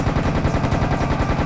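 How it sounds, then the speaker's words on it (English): Rapid, continuous bursts of Tommy gun fire in the Serious Sam Second Encounter shooter game, a steady loud chatter of shots with no pause and no voices over it. "Sniper rifle and Tommy gun"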